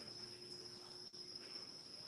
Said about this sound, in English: you can hear our chorus of real life crickets